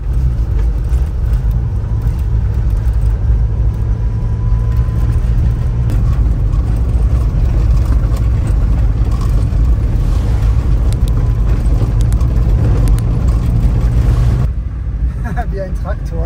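A Land Rover Defender engine drones steadily while driving, a loud low rumble with road noise that continues throughout and cuts off near the end, with a voice talking over it.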